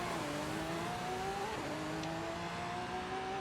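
A drag car in Forza Horizon 5 launches off a dirt start and accelerates hard, its engine note climbing steadily with a brief gear-change dip, loud and continuous.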